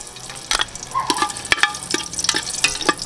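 Ginger sautés in a hot pan for beef brisket tinola, a loud, busy sizzle broken by sharp spatula scrapes and clicks that come in quick, uneven bursts with no talking.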